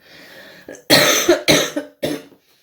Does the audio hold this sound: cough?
yes